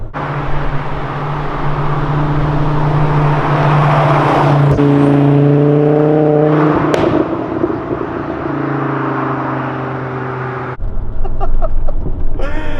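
A 400 hp Volvo wagon's engine drones steadily, its pitch climbing in stages as it revs up and gathers speed, then a burst of louder mechanical noise near the end.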